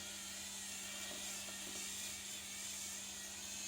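A Remington Revitalise facial cleansing brush runs with a continuous, even motorized whir, faint and close, holding steady without breaks or speech.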